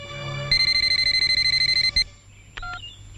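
A telephone rings in a Bollywood film scene, a loud, close electronic trill pulsing rapidly for about a second and a half over a low hum, followed by a brief higher beeping tone.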